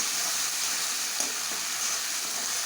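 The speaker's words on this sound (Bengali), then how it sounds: "মশলাটা একটু কষিয়ে নেব" Spice paste cooked down in a pan for a Bengali maan kochu dish gives a steady, close sizzle with soft stirring scrapes, running on its own without pause.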